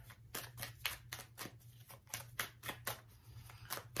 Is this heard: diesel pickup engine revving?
no